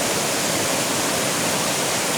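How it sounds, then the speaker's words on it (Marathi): Steady, loud rushing of a fast-flowing hillside stream in Konkan, a continuous broadband roar with no pauses and no voices. "जोरदार असं पाणी त्याचा प्रवाह तुम्ही बघत आहात"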